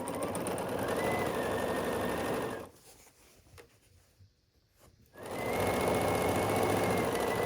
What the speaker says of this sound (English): And I have the 3 12-inch blocks that I'll sew together next.